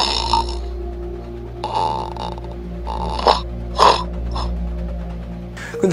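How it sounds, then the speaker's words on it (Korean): A person's snoring breaths in a recording, several rough, irregular bursts separated by pauses over a steady low hum, close and fairly loud with no talking. "나의 코골이 소리를 들어보자"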